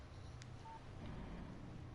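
A mobile phone in a video game gives off a brief electronic keypad tone against a steady low background hum, faint and without speech.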